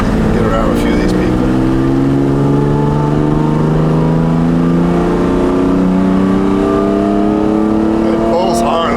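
A mid-engine sports car accelerates hard with the window partly down, its engine note rising steadily in layered harmonics for the whole stretch, loud and close inside the cabin with a little talk over it.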